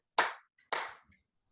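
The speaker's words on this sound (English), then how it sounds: "I'll say bow to the flag, clap, clap" Two sharp hand claps about half a second apart in a quiet room during a class's opening bow to the flag, each crisp and close with a brief decay.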